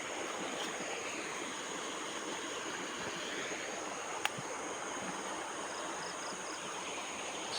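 A river flowing during a fishing trip, a steady broadband wash of moving water with a faint insect trill above it and one brief tap, with no voices.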